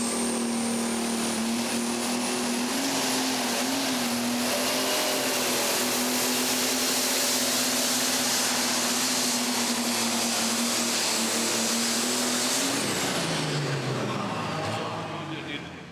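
A two-wheel drive light pro stock pulling truck engine at the NTPA Super Nationals in Tomah, Wisconsin roars loud and close at a steady, consistent pitch for about twelve seconds, then winds down and fades.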